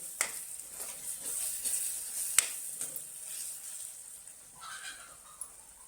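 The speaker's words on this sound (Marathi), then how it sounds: "चांगलं तेल सुटेपर्यंत ही ग्रेव्ही छान अशी शिजून घेऊ" Egg curry gravy cooking down in a pan until the oil separates, a soft steady sizzle and simmer close by with a few small clinks and bubbling pops, no one talking.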